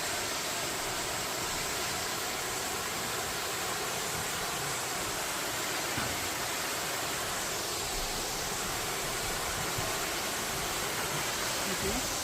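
Waterfall in Juwangsan National Park, seen from a wooden deck trail, a constant broadband rush of falling water that fills the whole clip evenly with no pauses or voices.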